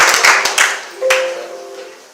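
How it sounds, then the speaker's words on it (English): A few scattered hand claps from an open mic poetry crowd, brief and loose, fading after a second into a sustained tonal hum. "Clap it up for yourselves"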